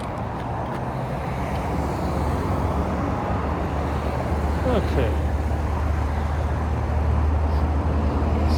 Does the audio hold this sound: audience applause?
no